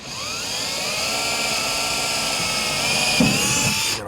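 A cordless drill bores a hole in the rear door of a Ford Transit van, one steady high whine lasting a few seconds that briefly strains near the end before stopping, close and loud.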